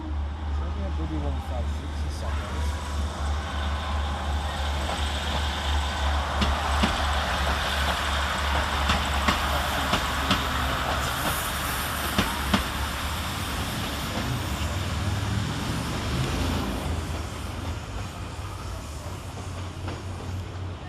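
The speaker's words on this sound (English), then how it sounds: "Next out to depart will be 156491, working the 1307 Northern service through to Lancaster." Northern train 156491, a diesel unit, departs Carlisle railway station with a continuous low engine rumble and rising, near mechanical drone, station noise and voices around it.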